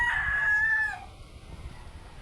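A rooster crows once, a single drawn-out call close by, among backyard chickens in the Philippines, followed by quiet low background noise.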